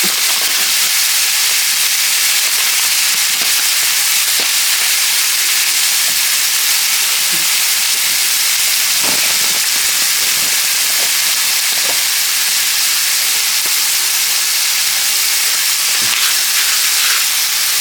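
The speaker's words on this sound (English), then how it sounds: "So I'm going to go ahead and put my onion mix in there so it can be cooking real good and flavoring it." Onion mix frying in a hot pan, a continuous loud sizzle and hiss with scattered pops and crackles, no talking.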